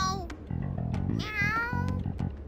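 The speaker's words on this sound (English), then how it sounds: "That sure is a noisy cat." A cat meows repeatedly in the video game Persona 5 Strikers, several clear, close meows in quick succession over a steady game-music background.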